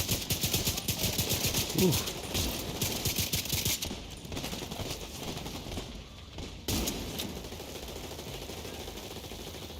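Rapid assault-rifle fire from the Merciless in The Division 2, a dense stream of shots for several seconds that breaks off and resumes, with a voice briefly reacting.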